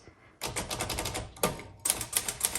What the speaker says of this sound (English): So the keystroke typing action is fantastic.